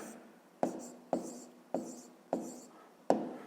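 Handwriting on paper while working a school maths exercise, a steady scratchy stroke pattern broken by five sharp pen taps at regular intervals, close and fairly quiet with no talk.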